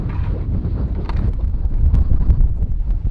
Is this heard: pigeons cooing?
no